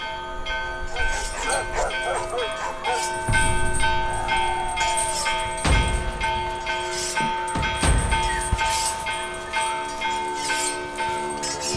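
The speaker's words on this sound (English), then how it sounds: "The village bells rung to alert Blossom Glade of the invasion." Village bells ring out as an alarm, a continuous metallic clanging with sustained ringing tones, mixed with dog barks and whimpers throughout and occasional heavier struck hits.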